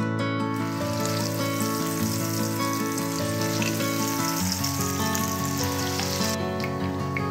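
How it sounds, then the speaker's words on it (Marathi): Hara bhara veg kebabs hiss and crackle as they fry in hot oil in a pan, a steady close sizzle with some tonal background hum running throughout, no voices. "ह्यामध्ये लगेच आपण हे कबाब घालून घेऊयात।"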